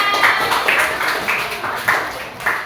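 A classroom group in Indonesia claps in short, rhythmic bursts, roughly five quick rounds spaced about half a second apart, close and moderately loud over a hissy background.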